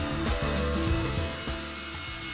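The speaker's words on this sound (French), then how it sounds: "Je place deux blocs de noyer sur mon convoyeur pour bien me caler, pour faire une découpe le plus propre possible." A saw cuts through two walnut blocks held on a sled, giving a loud, close, continuous rasping cut with uneven strokes that eases slightly toward the end, with no voices.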